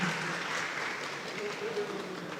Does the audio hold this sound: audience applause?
yes